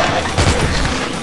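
Explosion in the mobile shooter game Dead Trigger 2, a dense, loud, continuous crashing blast with a heavier burst partway through, filling the whole short stretch.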